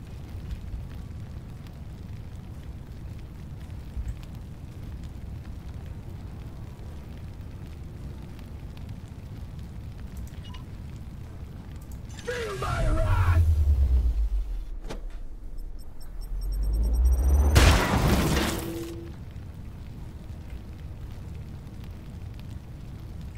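Two heavy precision bombardment blasts in Warhammer 40k: Chaos Gate land a few seconds apart, each a deep rumbling boom with a crackling tail over a low steady background hum.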